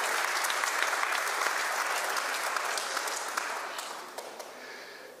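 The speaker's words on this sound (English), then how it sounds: "Let's give a round of applause to" Steady applause from a church congregation, loud and sustained at first, then gradually thinning and fading toward the end with a few scattered claps.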